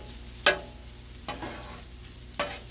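Seasoned pork is stirred on a Blackstone griddle. Three distinct scraping strokes of a spatula cut through a steady low sizzle, up close and without talk.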